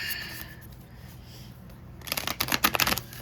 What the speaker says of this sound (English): Okay, we're gonna do one more shuffle.